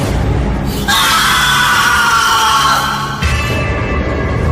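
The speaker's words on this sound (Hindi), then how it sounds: "एक चीख जंगल में गूंजी" A long, loud scream echoes through a forest as a horror effect, holding for about two seconds over a dark, rumbling background.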